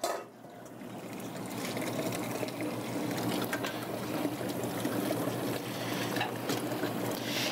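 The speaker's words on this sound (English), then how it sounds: "I'm gonna take the extra water out." Cooking water is poured off a pot of boiled food, giving a steady, continuous splashing and trickling rush that stays fairly loud and even from start to finish, with no talking.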